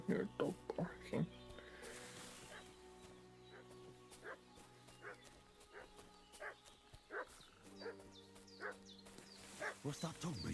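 A dog in Kingdom Come: Deliverance II barks repeatedly in short bursts, fairly near, over background game ambience and music, with a spoken voice heard at the start.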